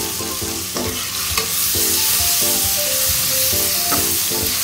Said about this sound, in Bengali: প্যাকেটে সব উপকরণ দিয়ে নেড়ে চেড়ে সুন্দর করে মশলাটা কষিয়ে নিচ্ছি।